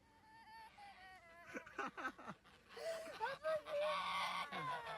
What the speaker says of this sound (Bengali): হাঁস আক্রমণ করে এই বাচ্চাটি রাজহাঁস থেকে পালাচ্ছে তার হাতে বালতি নিয়ে